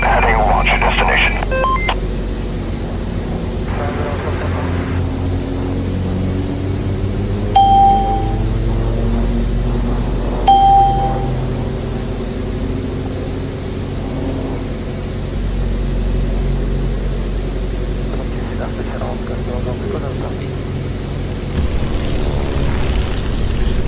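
Steady droning airliner engine noise inside the Eurofly flight game during takeoff and climb, a constant low hum throughout with two soft cockpit chimes and faint talk over it.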